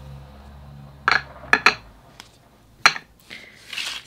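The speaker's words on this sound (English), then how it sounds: "I've got a clean tray here to mix some colors as well." A brush or palette knife knocks and clinks against a clean palette tray while cobalt teal paint is mixed, a few sharp close taps spaced apart, with a soft swishing scrape near the end.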